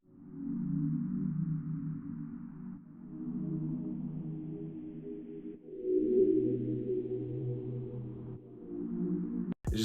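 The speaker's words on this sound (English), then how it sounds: "simple, typical, dark kind of R&B type of chords" Dark, simple R&B-style synth chords run through an EQ that strips the high hiss, giving a muffled, underwater tone; sustained low chords change every few seconds, steady and alone, ending with a brief sharp click.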